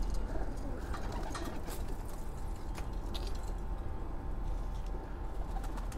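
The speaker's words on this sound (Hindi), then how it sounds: "कबूतर उड़ के आते हैं तो बैठ जाता है ऊपर" Pigeons coo softly amid a steady low rumble of background noise, with occasional faint rustles nearby.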